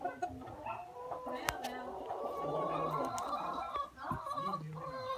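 Chickens cluck and squawk repeatedly at a village market where birds are sold, the calls overlapping with busy background voices and market chatter close by.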